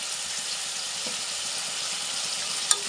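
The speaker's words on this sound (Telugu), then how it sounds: "ఇందులోనే కొంచెం అల్లం వెల్లుల్లిపాయ ముద్ద వేసుకోవచ్చు" Ginger garlic paste frying in a pan for a chicken and chana dal curry, giving a steady close broadband sizzle that holds evenly throughout, with one brief sharp clink near the end.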